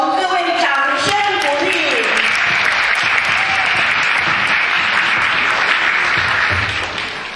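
Applause from an audience at a year-end celebration gala in Chicago swells to a loud, sustained roar after an announcer's voice and brief music, tapering at the close.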